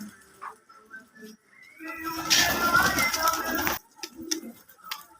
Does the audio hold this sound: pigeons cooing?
yes